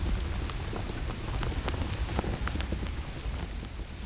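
Tens of thousands of silkworms chew mulberry leaves together, producing a dense, even patter of tiny crisp ticks like steady rain, constant and moderately faint with no talking.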